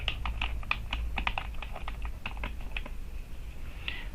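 Rapid clicks of a computer keyboard as a folder name is typed, irregular bursts of keystrokes for about three seconds, then a short pause and a final few taps, close and clear over a low background hum.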